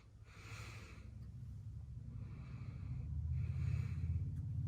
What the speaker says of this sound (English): And then take deep breaths.